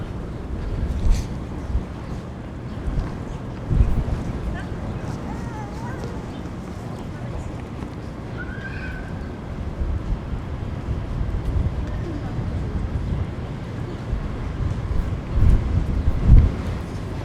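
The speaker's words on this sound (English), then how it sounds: "Ooh, this wind has picked up." Strong wind buffets a microphone on a downtown Toronto street in March, a steady low roar with gusts that swell and fade, while faint traffic rumbles beneath and a voice speaks at times.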